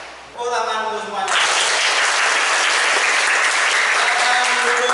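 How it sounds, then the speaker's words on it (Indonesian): Applause breaks out in a school classroom. A voice is heard at first, then many students clap loudly and steadily in a thick, continuous patter that lasts several seconds. "Tepuk tangan untuk semuanya."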